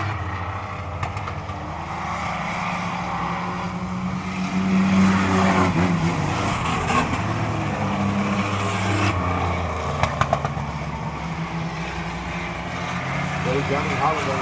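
Racing trucks in a truck qualifier race run around the track, a continuous engine roar swelling as they pass, with a commentator talking over the noise throughout.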